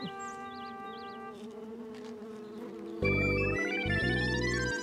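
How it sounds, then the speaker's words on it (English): Bees buzz around flowers amid a bright musical background, with a steady insect drone throughout and a busier, louder stretch of tones and buzzing in the second half. "He means that bee buzzing all around the flowers."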